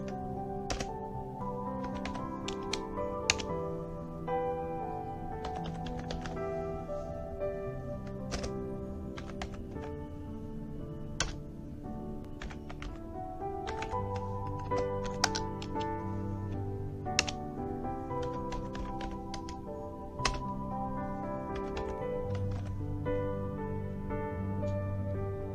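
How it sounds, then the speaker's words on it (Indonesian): Typing on a computer keyboard while configuring a manageable network switch: a steady run of close key clicks and taps with occasional louder thunks, continuing throughout over a constant background hum. "Kita ketikkan."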